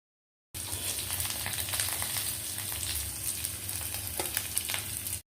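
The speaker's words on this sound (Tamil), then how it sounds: "இப்போ இந்த பிரண்டை நல்லா வதங்கி" Pirandai (veld grape) sautéing in oil in a pan, a steady close sizzle that starts abruptly after a brief silence and carries on with light stirring clicks, no voices present.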